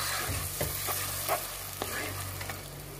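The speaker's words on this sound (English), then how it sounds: "So I'm just going to leave this one to cook or to fry for like 2 minutes" Garlic, onion and ginger fry in a pan for a beef sauce, giving a steady close sizzle with a few soft stirring scrapes and light clicks on top, and no voices.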